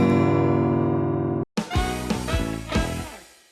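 A guitar chord rings out and sustains, then after a brief gap several more strums follow, sounding sour and out of tune.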